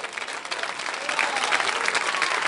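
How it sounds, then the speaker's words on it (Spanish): Steady applause from a church congregation, dense clapping that swells slightly and holds at a constant level throughout. "Dele fuerte ese aplauso si es para él"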